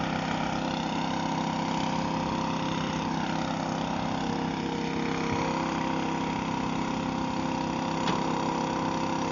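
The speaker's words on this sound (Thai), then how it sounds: "อาจมีเสียงเครื่องสูบน้ำรบกวนนิดนึงครับ พอดีว่ามันต้อง เอาน้ำออกให้หมด" A water pump drones steadily close by while draining water from a pit at an excavation site, a constant mid-pitched engine hum with no breaks.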